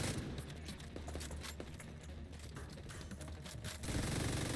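Enemies blind firing guns in The Division 2, a steady rattle of distant rapid gunfire with scattered sharper shots, low in level, swelling louder near the end.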